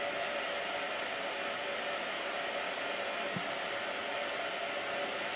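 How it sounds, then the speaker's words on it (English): A blow dryer runs continuously at a steady, loud, broad rushing whoosh with no variation throughout, heard alone without speech. "ready for a blow dryer?"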